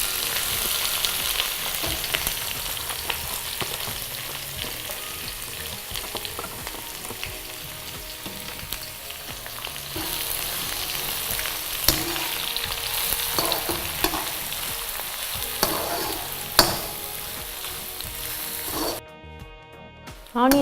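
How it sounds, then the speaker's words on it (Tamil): Onions sauté in hot oil with green chillies and curry leaves for mushroom gravy. A loud, dense sizzle continues nearly throughout, with occasional stirring scrapes and clatter, then stops abruptly near the end. "ஆனியன் நல்லா ப்ரௌன் கலரில் வதங்கணும்"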